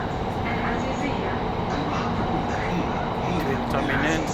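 Doha Metro train accelerating in a metro station in Qatar, a continuous rumbling, whining drone of rail noise that stays steady throughout.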